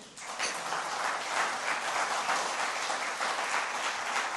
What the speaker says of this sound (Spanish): Dele pues un aplauso a Dios